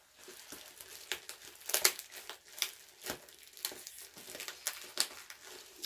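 A heavily wrapped package being unwrapped by hand, close and fairly soft, with irregular crinkling and tearing of packing material and sharp crackles scattered throughout.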